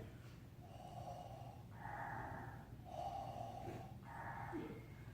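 A voice imitates heavy, growly breathing, with slow alternating rasping inhales and exhales, close and rhythmic, four long breaths in a row.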